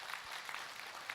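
Brief, faint audience applause during a Buddhist monk's talk, a soft wash of scattered clapping lasting about a second.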